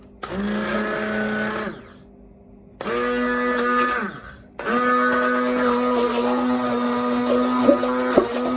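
A blender runs in three bursts, motor whining at a steady pitch, stopping briefly between runs, then continuing with some rattling near the end.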